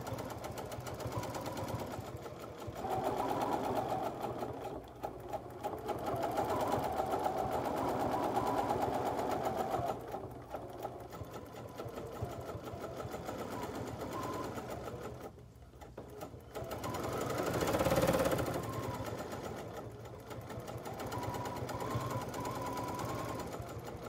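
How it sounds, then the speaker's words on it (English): Computerized sewing machine running under a stitch regulator for free-motion stitching, a steady mechanical whir that rises and falls with speed over about 24 seconds, briefly easing off and surging again, with no talking. "So I'm gonna press and hold my start button. There comes my stitch regulator light"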